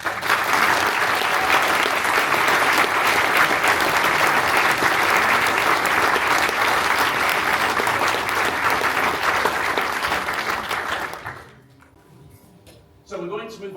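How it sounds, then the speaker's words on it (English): Sustained audience applause at a brass band's anniversary concert with its youth and training bands, loud dense clapping for about eleven seconds before dying away into quiet rustle. "And to give the training band and Tooters another round of applause."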